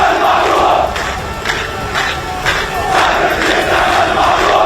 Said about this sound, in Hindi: लोगों ने अस्पताल पर हुए हवाई हमले की निंदा की और इजराइल के विरोध में जमकर नारेबाजी की।